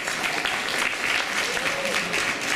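Audience applause for the 1010 Wins sponsor booth at a WCBS 880 AM event, steady dense clapping from a crowd that holds at an even level for the whole stretch, with no speech over it.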